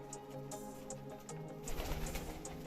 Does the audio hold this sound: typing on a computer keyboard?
no